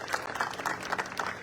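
An audience at a political speech in Gorakhpur claps in welcome, a dense steady patter of many hands heard from a distance for a short burst, with a faint voice underneath.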